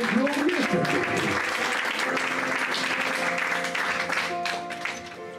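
A church congregation at a French-language service applauding, a loud, sustained clapping that fades toward the end, with a voice speaking over it.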